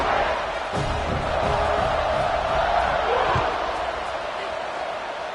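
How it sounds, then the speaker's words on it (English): Football stadium crowd roars and cheers loudly and steadily after a long scoring drive as the kickoff unit takes the field, a dense sustained wall of noise with a commentator talking over it. "this crowd is feeling themselves after that last drive"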